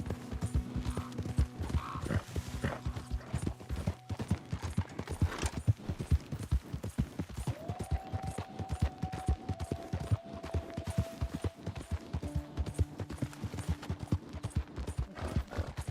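Horse hooves clip-clop steadily on a ridden mount in Red Dead Redemption 2, a fast continuous rhythm with creaking tack and faint game tones, no talk.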